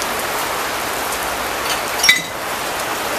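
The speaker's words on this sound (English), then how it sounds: "Lots of rain. So nice and rainy." Steady rain falls in Geneva, a dense even hiss throughout, with a brief faint clink partway through.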